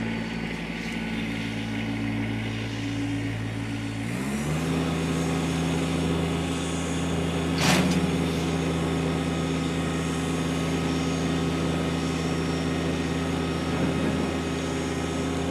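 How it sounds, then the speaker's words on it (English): A 2018 Kubota BX1880 compact tractor engine idles with a steady low drone, then climbs to a higher, louder running pitch a few seconds in and holds it evenly, with no talk. "I'm going to go ahead and fire this tractor up."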